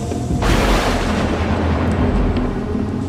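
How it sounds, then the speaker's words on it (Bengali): A cartoon storm with strong wind comes in as a sudden deep, roaring rumble after a brief lead-in, then holds loud and heavy to the end. "হঠাৎ জোরে হাওয়া বইতে শুরু করলো এবং প্রচণ্ড ঝড় শুরু হলো"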